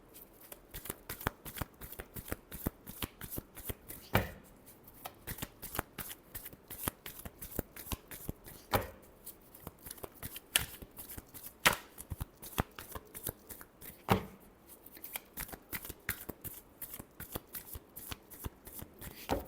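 A deck of tarot cards being shuffled by hand, a rapid run of crisp riffling snaps and flutters repeating close up, with brief pauses between bursts and no talk.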